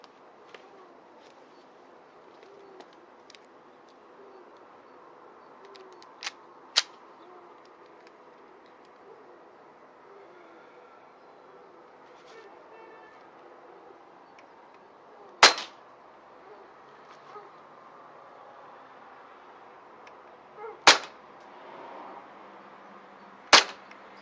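Three sharp, loud shots spaced several seconds apart from a WE Makarov PMM gas blowback airsoft pistol fired without a silencer, each a crisp crack over a quiet background with faint handling clicks.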